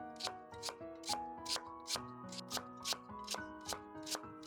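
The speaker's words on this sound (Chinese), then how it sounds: "然后给它切成薄片。" A knife slices a washed, trimmed sweet potato into thin slices, with about a dozen crisp, evenly spaced chops against the board, close and steady, no voices.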